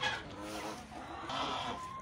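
Hens cluck and murmur in a chicken coop, a close, soft, continuous chatter of overlapping calls.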